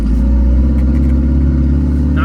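A K20 turbo Honda Civic drives along with a steady, loud low engine drone and road noise throughout, heard from inside the car.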